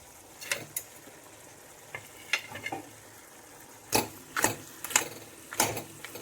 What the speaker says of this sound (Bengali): ভাজা মাছের মাথা এবং মশলা দেওয়া সবজিগুলো একসঙ্গে মিশিয়ে নিচ্ছি।